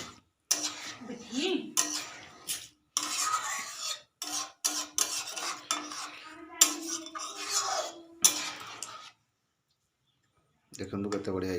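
A utensil scrapes and clicks around a pot of egg curry being stirred, in uneven bursts separated by brief gaps, while someone talks over much of the stirring.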